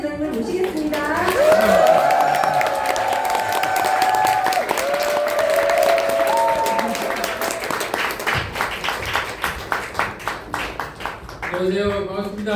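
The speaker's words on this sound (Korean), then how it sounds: "저희가 여지껏 없었던 박수와 함성으로 임성민 리더님을 모시겠습니다" An audience welcomes a speaker at a lecture event with loud, sustained applause and cheering, shouting voices over dense clapping that thins into scattered claps before swelling again.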